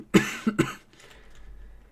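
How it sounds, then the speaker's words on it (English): Three sharp, close coughs in quick succession, followed by faint breathing and quiet background. "I apologize for the coughing."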